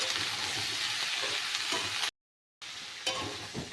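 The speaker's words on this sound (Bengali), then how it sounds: "ভালো করে সবজিগুলোকে কষিয়ে নিতে হবে" Mixed winter vegetables sautéing in a pan with salt and turmeric, a continuous quiet sizzle with stirring scrapes, briefly cut to silence midway, then resuming close by without talk.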